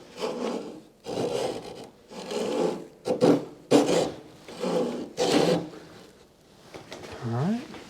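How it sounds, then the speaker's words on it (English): A hand saw cuts a piece of wood along a marked line in rhythmic push strokes, about seven rasping bursts with brief pauses between them. The sawing sounds close by and fairly loud, and a voice speaks briefly near the end. "see if you can keep it on that line and cut it straight back."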